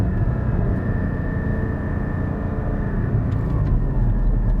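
A car engine in a manual-gearbox car drones steadily and loudly, with a constant low rumble and a faint whine, while the driver works down through the gears without blipping the throttle.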